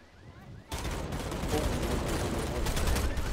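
Several players exchanging gunfire in the vampire battle royale game Bloodhunt, a dense continuous barrage that bursts in after a brief quiet start and keeps rolling at moderate loudness, with a faint voice underneath.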